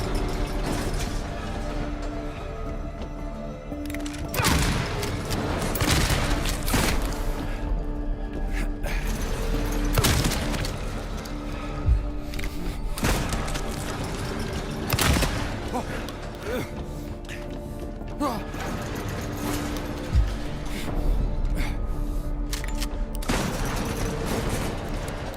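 Gunfire in a spooky video game streamed live, with sharp shots and bursts recurring every few seconds over a constant busy game soundscape.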